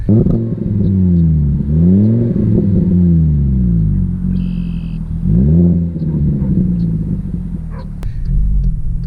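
A 2012 Mk6 Volkswagen Golf with the 2.5 five-cylinder engine revs up repeatedly, its close, loud engine note rising and falling in several sweeping pulls with a deep rumbling idle between them.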